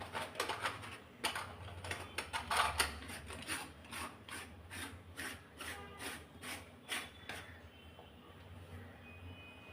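An idiyappam press squeezes rice flour dough onto a banana leaf, producing a steady train of rhythmic creaking, rasping strokes close by, each turn of the press clearly audible, tapering off toward the end.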